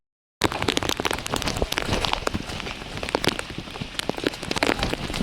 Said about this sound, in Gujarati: તો વરસાદ હવે ભૂકા બોલાવે.